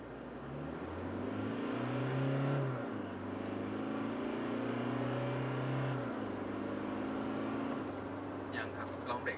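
A Toyota Fortuner 2.4V GD diesel SUV accelerates in Power mode. The engine drone climbs in pitch, drops back at two apparent gear shifts, then climbs again, heard from inside the cabin with faint voices.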